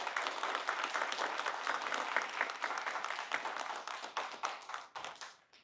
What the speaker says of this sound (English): So how about another great round of applause for this amazing class?